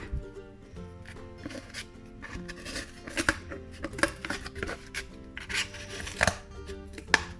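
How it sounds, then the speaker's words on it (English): Scissors cutting cardboard windows out of a shape, giving irregular snipping and crunching bursts close by, with rustling of the card between cuts and faint music underneath. "This makes it easier for the scissors to get into the shape."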